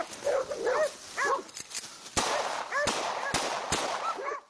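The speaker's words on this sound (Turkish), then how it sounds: "Görür görmez de av tüfeğini domuzlardan birine doğrultup peş peşe tetiğe bastı." Hunting dogs bark and yelp in a forest during a wild boar hunt in Bolu, with several sharp, loud hunting rifle shots fired in quick succession partway through.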